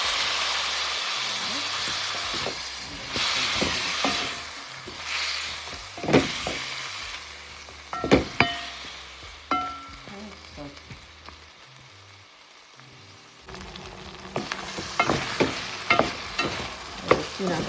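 Curry frying in a pot and being stirred: a loud, steady sizzle with scraping stir strokes, which drops away for a quiet stretch near the middle and then returns with crackling spatters, close by.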